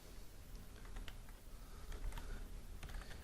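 Keys on a computer keyboard are tapped during an AutoCAD lecture, a short run of soft, irregular clicks heard faintly up close with no voices.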